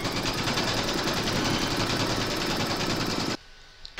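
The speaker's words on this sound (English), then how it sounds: "Pop your hoop into your machine and stitch round number two to secure it." An embroidery machine stitches a hoop holding a bookmark design, giving a loud, steady, fast rhythmic clatter that runs without a break for over three seconds and then cuts off abruptly into near silence.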